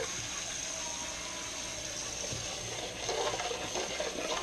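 Cold water pours steadily into a pot with a continuous splashing hiss, growing a little louder and choppier toward the end.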